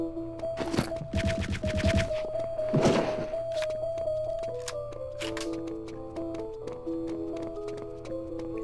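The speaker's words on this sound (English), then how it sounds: "I'm using the sound of the radio to cover my shots" Rapid bursts of gunfire in the World War II shooter Return to Castle Wolfenstein, a cluster of sharp close shots early on and another around the third second, sounding over a steady radio tune playing in the background.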